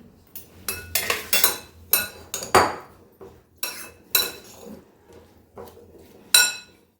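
A spoon mixes protein-rich breakfast ingredients in a bowl, giving a run of sharp, close clinks and scrapes in uneven bursts of about a dozen strikes, each with quiet gaps between. No one speaks.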